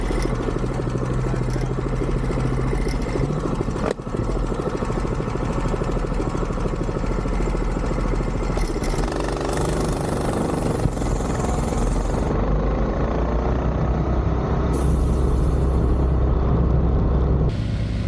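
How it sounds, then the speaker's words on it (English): Coleman CT200 minibike with a Duromax 208 engine and its governor still active, a steady close engine drone that shifts and swells as it launches over about eighteen seconds, without speech. "This first launch has the governor still in play, so we're not after a speed run."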